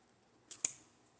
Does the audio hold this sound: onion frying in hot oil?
no